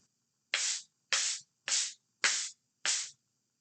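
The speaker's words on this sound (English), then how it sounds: "sand blocks sound like this." Five separate rough, sandy scrapes of two sand blocks rubbed together, evenly spaced and close, each a short swish of grit against grit with silence in between.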